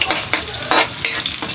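Sardines hit a hot frying pan with a loud, close, continuous sizzle, crackling in short pulsing bursts as the oil spits, with no voices.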